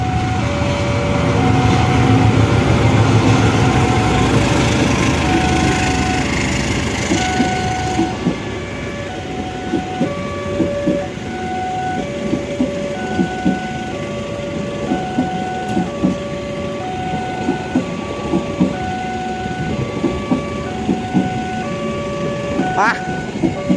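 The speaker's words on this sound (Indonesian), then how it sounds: "Kereta yang kedua adalah kereta api Argo Bromo Anggrek dengan rute Gambir Surabaya Pasar Duri." An Argo Bromo Anggrek passenger train on the Gambir–Surabaya Pasar Turi route, hauled by a CC 206 locomotive, rumbles loudly past. It settles into a steady rhythmic clickety-clack of wheels over rail joints, with faint voices underneath.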